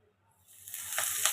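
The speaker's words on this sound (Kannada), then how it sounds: "ಇದಕ್ಕೆ ಒಗ್ಗರಣೆ ಹಾಕ್ಕೊಳ್ಬೇಕು" Tempering spices hitting hot oil in a pan for a chicken balls gravy, a soft hiss that starts near silence and swells into a bright, crackling sizzle over about a second.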